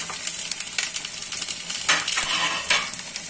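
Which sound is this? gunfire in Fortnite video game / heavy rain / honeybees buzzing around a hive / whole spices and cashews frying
whole spices and cashews frying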